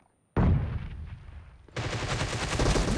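Gunfire erupts in a video game team deathmatch: a sharp close shot cuts in after near-silence, followed by a rattling stretch and then a denser, louder volley of rapid automatic fire, with no voices.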